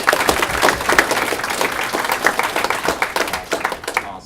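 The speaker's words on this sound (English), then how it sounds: "So just give them a round of applause." An audience at a career day event claps for the MakerSquare faculty, steady crowd applause that holds at an even level for about four seconds before fading.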